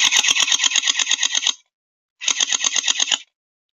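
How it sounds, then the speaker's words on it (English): An airsoft MP5 fitted with a very long fake suppressor fires two rapid full-auto bursts, about a second and a half then a second, each a loud, even chain of sharp mechanical pops separated by a short silence. "Definitely makes unique sound with that super long silencer on there."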